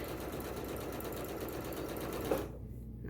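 A sewing machine stitching fabric strips onto a string quilt block made from scraps runs as a steady fast whir, close and fairly quiet, stopping abruptly near the end.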